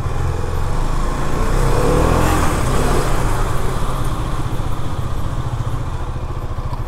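Husqvarna Svartpilen 250 motorcycle with a 250 cc engine, its smooth, bassy exhaust note droning steadily and loud throughout while riding, with steady road noise and no speech.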